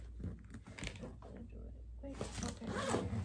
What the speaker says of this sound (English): let me try and unzip it.